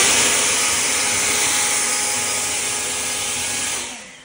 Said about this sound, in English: showcase this Ego 56 volt leaf blower